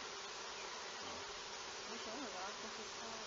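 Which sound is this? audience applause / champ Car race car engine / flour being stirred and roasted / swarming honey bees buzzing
swarming honey bees buzzing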